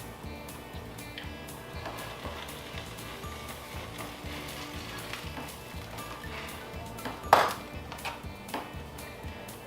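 A gluten-free vegan grilled cheese sandwich fries quietly in a pan, a soft steady sizzle with light scattered crackles and one sharp metallic clink near the end, no talking.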